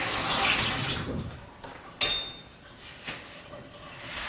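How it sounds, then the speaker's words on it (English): A kitchen tap runs while a knife is rinsed during home cooking. A steady rush of water fades after a second or so, then a sharp clink and a smaller knock follow against softer trickling. "Let me wash the knife then."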